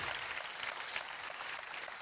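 Audience applause at an awards evening honouring projects, a steady broadband patter of clapping sustained for the whole short stretch without any voices.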